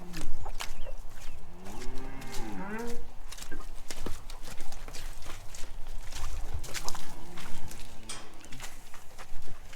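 A herd of farm cattle being drafted into mobs for winter, moos rising over shuffling hooves and movement nearby, with people talking intermittently throughout.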